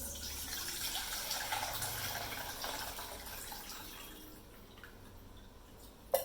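Tamarind water trickles and splashes faintly into a container, a quiet pouring that tapers off before a small knock at the end.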